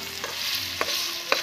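Bat meat adobo fries in a pan with a steady close sizzle, broken by a few scraping stirs of a utensil, and no one talks.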